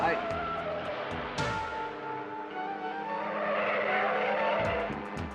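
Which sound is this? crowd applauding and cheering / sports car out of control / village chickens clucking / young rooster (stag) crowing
sports car out of control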